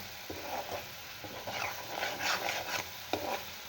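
A spoon stirs milk into a dish cooking on a low flame, with soft scraping strokes against the pan and a faint steady sizzle underneath, including a couple of sharper taps.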